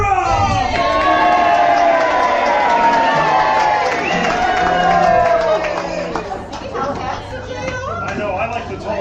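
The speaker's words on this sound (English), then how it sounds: "And when they make their entrance, you cheer." Crowd of audience members at a stage play cheers and shouts loudly for the heroes' entrance, a dense, sustained roar of many voices with whoops and children's cries, fading slightly toward the end.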